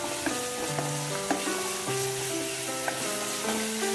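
Ginger garlic paste sizzling as it is sautéed in a hot pan for a bottle gourd chicken gravy, a steady close frying hiss with light stirring clicks and scrapes throughout, no talking.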